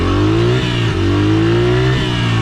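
Chevrolet Sonic RS turbo engine revving loudly up close on a city street in Chinatown, its pitch climbing and falling in repeated surges.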